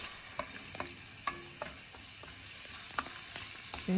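A quiet, steady sizzle of oil frying in a pan as spices are tempered before a tomato and onion paste goes in for chickpea curry, punctuated by occasional light taps and scrapes of a spoon.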